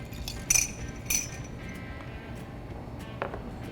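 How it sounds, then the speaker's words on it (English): A smoked cocktail glass is flipped over during cocktail preparation on a lifestyle talk show, giving two light glassy clinks close together early on and a softer one near the end, over quiet room noise. "we're going to flip the smoked glass over"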